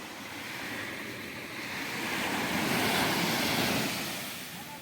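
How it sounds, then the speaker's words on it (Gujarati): Sea waves wash in at Mahuva port, a steady broadband roar of surf that swells and recedes with some wind noise, heard alone without talk. "દરિયાનો અવાજ બધું આવે"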